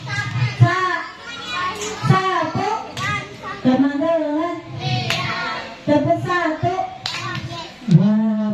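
Children clap in a counting game, sharp hand claps landing in short rhythmic bursts about once a second, close and loud, mixed with their chanting voices.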